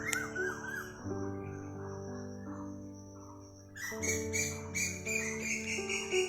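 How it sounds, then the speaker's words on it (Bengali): Birds singing in a forest, with steady bright chirps and calls that grow busier partway through, over a sustained tonal drone in the background. "তোমরা পাখির আওয়াজ তো শুনতে পাচ্ছ, ওটা চুপ করে শোনো।"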